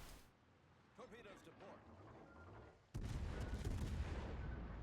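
Naval guns in World of Warships fire with a sudden heavy boom that cuts in sharply, then leaves a loud, broad rumble rolling on, while someone talks quietly just before the blast.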